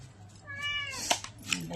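A domestic cat meows once, a drawn-out, rising-and-falling call heard close by in a home kitchen, with soft household noise and brief clatter around it.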